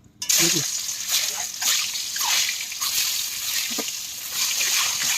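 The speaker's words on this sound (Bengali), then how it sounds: "প্রথমে দিয়ে দিচ্ছি সর্ষের তেল, ডিমগুলো ভেজে নেব।" Eggs sizzling and spattering in hot mustard oil with turmeric and salt in a pan, a steady close crackle with brief pops and splashes throughout.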